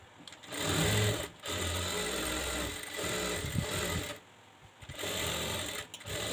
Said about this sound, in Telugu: నేను స్టిచ్చింగ్ అయితే చేస్తున్నాను